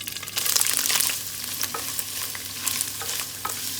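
Prawns deep frying in hot oil in a deep fry pan, a dense bright crackling sizzle that swells early and then settles into a steady bubbling hiss with occasional pops, close and loud.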